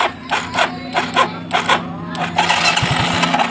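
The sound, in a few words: Yamaha Mio Soul GT scooter engine starting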